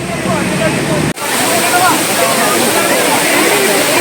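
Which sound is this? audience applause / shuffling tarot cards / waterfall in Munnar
waterfall in Munnar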